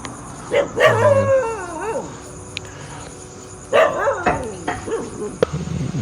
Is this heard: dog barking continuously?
yes